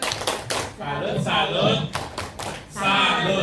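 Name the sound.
group clapping a salute clap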